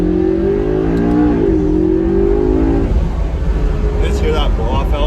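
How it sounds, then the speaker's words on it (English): Race car engine revving with a blow off valve, a rising droning engine note that drops away after a couple of seconds into rough idle, with faint hissy chirps near the end, loud and close. "Let's hear that blow off valve."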